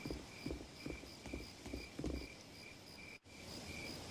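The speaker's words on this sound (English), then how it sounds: "and crickets, so realistic" Night crickets in the game Tales of Zestiria trill steadily in high, even pulses, alongside soft rhythmic patters. The ambience is quiet and continuous, with a brief dropout before the chirping resumes.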